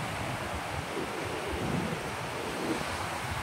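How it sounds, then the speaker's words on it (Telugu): Ocean waves at a beach in Sri Lanka wash in as a steady, dense roar of surf with wind buffeting the microphone, loud and continuous, with no talk. "కొన్ని అలలు ఇటు"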